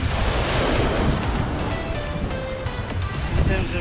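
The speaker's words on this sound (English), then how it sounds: "Looks pretty wild here in terms of waves." Rough waves surge and wash onto the beach at Agios Georgios, Corfu, a loud continuous roar of surf while someone talks over it.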